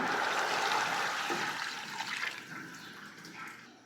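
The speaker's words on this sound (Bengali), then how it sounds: "একটু পানিটা দিয়ে দিলাম" Water pours steadily into a pot, a full splashing rush that gradually thins toward a softer trickle.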